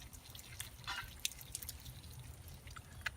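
Cold well water from an outdoor shower dripping and splashing in scattered, irregular drops at close range, over a low steady rumble of background noise.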